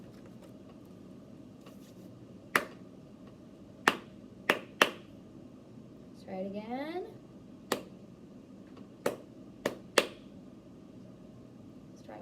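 A teacher claps out rhythm patterns in a music lesson on notes and rhythms: a few crisp, separate hand claps, then a short spoken line, then another short series of claps, all in a quiet room.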